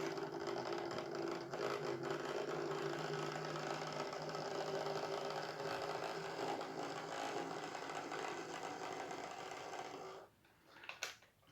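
A Lima Class 47 OO gauge model locomotive's motor runs with a steady, buzzing mechanical whir and a slightly chuggy gear rattle. It carries on for about ten seconds, then cuts out, followed by a few small clicks.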